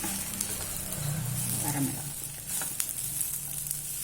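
Spices tempering in hot oil in a pan, a steady close sizzle with brief stirring scrapes, continuous and fairly quiet for about four seconds, no talking.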